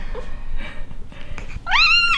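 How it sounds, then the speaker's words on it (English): A pet cat meows once near the end, a clear rising and falling call that comes after a stretch of soft, indistinct household noises. "Is that why you're meowing at me?"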